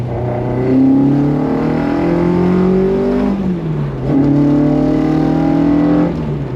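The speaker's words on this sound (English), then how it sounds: "sounds like an Escort should" A restored barn-find Ford Escort engine revs through the gears while driving, rising in pitch, dropping at a shift, then climbing again, loud and close from inside the car with no talk.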